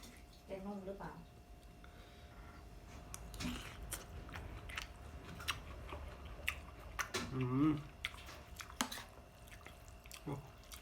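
Close, quiet chewing and slurping of Thai noodles, soft wet bites and crunches scattered through, with a voice speaking briefly between mouthfuls.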